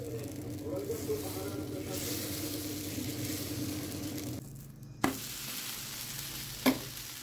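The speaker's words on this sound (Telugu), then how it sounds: "దాన్ని లూజ్ చేసుకొని కొంచెం ఇడ్లీ రవ్వ కలిపి నేను దోశ వేస్తున్నా" Dosa batter of urad dal mixed with idli rava frying on a pan gives a steady sizzle with stirring noises, then a quieter stretch broken by two sharp knocks.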